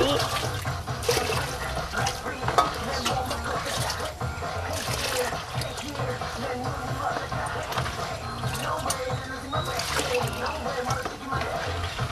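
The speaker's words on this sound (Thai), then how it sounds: "นำขี้เถ้าผสมน้ำคนให้เข้ากัน" Ash mixed with water being stirred, a continuous wet swishing and sloshing with small splashes, fairly close and steady, with talking over it.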